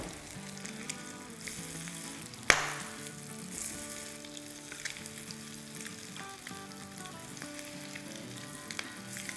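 Egg kababs fry in a pan with a strong, even sizzle; one sharp clack marks a piece being flipped, followed by continuous crackling and faint stirring, no talk.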